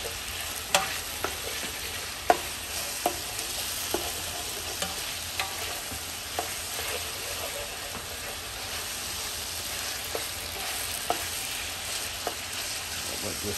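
Jambalaya meat cooking down in a pot, a steady faint sizzle and hiss broken by regular clicks and scrapes of stirring.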